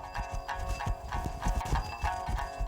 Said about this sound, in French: Le cheval mustangui a une façon particulière de trotter. Ce trot a pour nom l'amble.